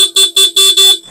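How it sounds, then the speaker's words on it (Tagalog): A Honda ADV160 motorcycle's stock horn honks four quick times in a row, loud and close, each short beep a thin, high electric tone. "Gumagana yung stock horn."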